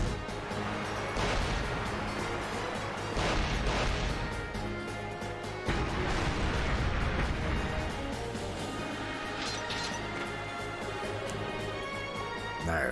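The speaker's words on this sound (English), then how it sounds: "Oh, who's firing cannons?" Cannon fire in the Ys Seven video game booms in dense, repeated blasts, loud and continuous with heavier bursts at intervals, with no talking.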